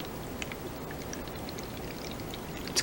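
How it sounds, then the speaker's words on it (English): Water pours steadily into a container of soil, a low continuous trickle and splash with a few small drips, moderately quiet and close. "Pouring the water in."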